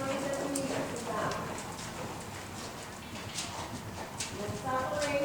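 A horse canters around an arena during a dressage clinic, its hoofbeats thudding in a loose repeating rhythm at moderate distance, while an instructor talks over the footfalls.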